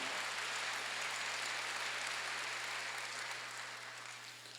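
Church congregation applauding during a Sunday worship service, a dense, steady wash of clapping that fades slightly toward the end, with a low electrical hum underneath.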